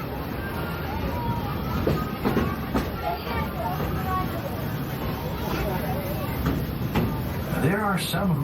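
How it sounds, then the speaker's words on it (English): Walt Disney World Railroad steam train at Magic Kingdom, heard from on board: a steady rolling rumble with rhythmic rail clatter and faint creaks, a murmur of passenger voices underneath, and a brief rising tone near the end. "this steam train is a little old-fashioned, but for me, it's the only way to travel"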